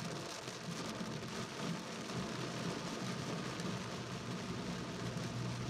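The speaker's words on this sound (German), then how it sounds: "bei solchen Regenmengen, die da runterkommen" Heavy downpour during extreme weather, a steady, dense rush of rain hitting surfaces with no pauses, heard alone without talk.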